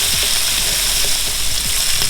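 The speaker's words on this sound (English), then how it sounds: "So as you can see, I'm not cooking the onion too long." Onion sizzles in a hot pan for shrimp pad thai, a loud, continuous frying hiss with a few soft stirring scrapes, close up and with no talking.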